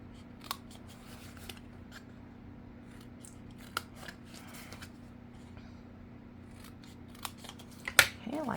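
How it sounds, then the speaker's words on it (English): Scissors cut paper along a score line while a small gift box for chocolate kisses is assembled: a few sharp, separate snips spaced seconds apart, close by, over a steady low room hum with no talking. "we're going to cut on our score line"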